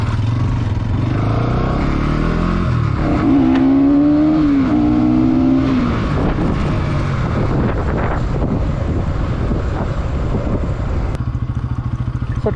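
A Bajaj NS200 motorcycle on Ceat tyres rides through traffic, its engine droning and rising as it revs and accelerates, with heavy wind buffeting the microphone throughout.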